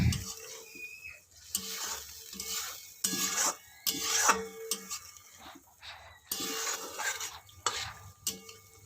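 Potatoes being stirred into frying masala for Odia pea ghugni, with repeated scraping strokes of a spoon against a pot over a soft sizzle, strokes coming in irregular bursts close by.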